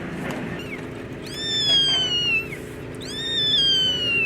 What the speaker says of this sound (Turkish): Büyük ihtimal onun kedisidir.